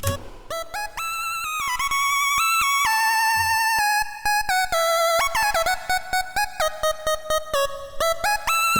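A bright, buzzy square-wave synth plays a lively lead melody, with quick stepping notes and short staccato repeats, alone and clear.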